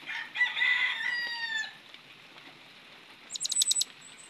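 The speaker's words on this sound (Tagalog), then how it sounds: "yung huni ng ating kulasisi." A Philippine hanging parrot (colasisi) calls nearby. A drawn-out harmonic cry is followed by a quick burst of shrill, high chirps against quiet background noise.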